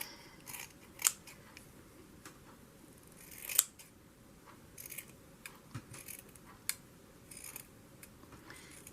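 Scissors cutting through the machine-sewn binding and pages of an old Little Golden Book, a series of sharp separate snips spread over several seconds, fairly close, with quiet room tone between cuts.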